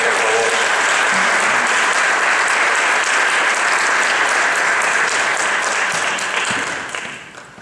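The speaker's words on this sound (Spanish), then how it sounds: "un aplauso para ella de nuevo, por favor." Sustained audience applause fills a Spanish-language literary talk hall at a cultural center, dense and steady clapping from a crowd that holds strong for several seconds before tapering off near the end.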